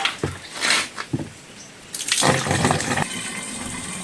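Water splashes and gushes into a container in short bursts, then pours steadily and loudly for a couple of seconds before easing off.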